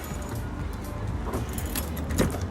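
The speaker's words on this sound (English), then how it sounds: "I need to get my car keys." Car keys for a Honda Accord jangle and clink nearby in a few small metallic bursts, steady over low background rumble, with no talking.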